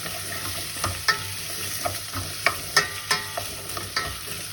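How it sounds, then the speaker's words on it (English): Chopped carrots and small potato pieces are stirred in a frying pan, with a spoon scraping and knocking in an irregular rhythm over a continuous soft sizzle, close and with no talk. "You want to stir it."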